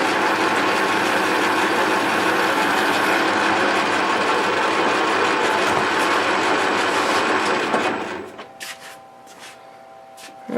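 A 1988 Jeep XJ engine valve spins in a drill chuck while being ground, giving a loud, steady whirring grind that winds down and stops near the end, followed by a few faint clicks.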